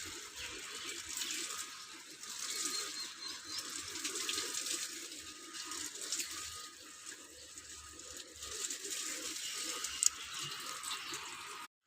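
A vehicle being washed by hand with running water, a steady broad spray and splash continuing throughout with small clinks and handling noises, moderately close and with no talk.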